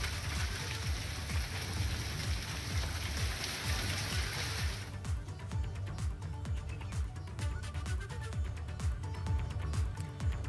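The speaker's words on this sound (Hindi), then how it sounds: "राजधानी में झमाझम बारिश हुई है।" Heavy rain pouring down in Dehradun, a dense steady hiss of falling water with spattering drops throughout, loud and continuous.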